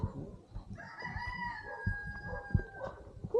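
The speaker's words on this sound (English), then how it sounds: "Look at that rooster." A rooster crows once in a long drawn-out call over a busy background of low rumbling and shuffling noise.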